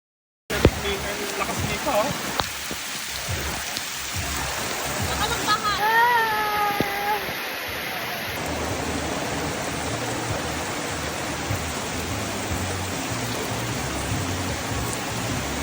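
Rain falling and a stream flowing on a farm in Quezon, a steady broadband wash of water that runs throughout, with a voice speaking briefly partway through.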